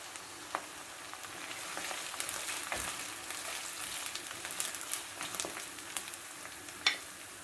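Onions and tofu fry in a pan for egg sauce, giving a steady, moderately quiet sizzle with scattered crackles and occasional light stirring clicks, close by and without speech.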